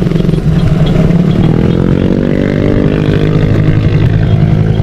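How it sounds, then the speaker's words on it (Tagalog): Several motorcycle engines idle and rumble steadily at a riders' stop on the Marilaque highway, a loud continuous low drone with some clatter and no talk over it. "Ang dami mga motor dito."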